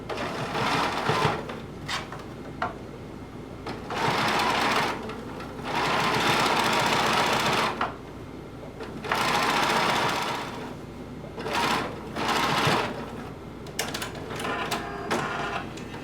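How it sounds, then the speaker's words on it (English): A sewing machine stitches a hem around a garment sleeve in several bursts of rapid whirring, separated by short pauses with faint handling clicks, close and loud. "sew a hem all the way around our sleeve"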